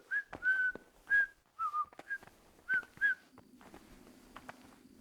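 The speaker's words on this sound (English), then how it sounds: "Somebody's walking around whistling." A person walking around in the medieval game Kingdom Come Deliverance whistles a short tune of several clear, sliding notes, then trails off into quiet footsteps and faint background ambience.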